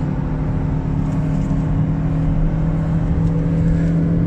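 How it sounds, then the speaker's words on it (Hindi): Inside a Maruti Suzuki Grand Vitara with its Japanese engine under acceleration, a steady loud engine drone and whir with road noise, continuous and close, without speech. "आवाज़ आपको आ रही होगी, तो मारुति के जैपनीज़ इंजन है भाई"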